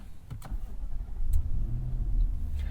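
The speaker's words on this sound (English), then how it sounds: "Before we start the engine, we're going to reset the car's trip computer and our GPS" A 2023 Infiniti QX80 SUV engine cranks and catches, then settles into a low steady idle nearby, with a few small clicks at the start.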